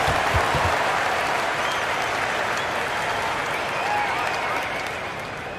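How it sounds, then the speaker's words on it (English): Dense crowd applause in a PS5 basketball video game (Dallas Mavericks vs Sacramento Kings) fills the space, a broad steady roar of many hands clapping that slowly fades toward the end. "Give yourselves a round of applause."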